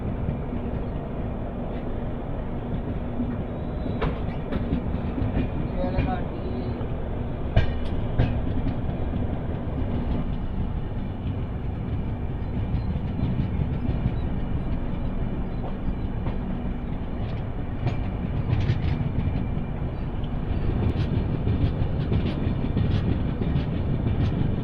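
Tirumala Express passenger train runs along the rails on its journey, heard from on board as a continuous low rumble with occasional rhythmic clacks and rattles throughout.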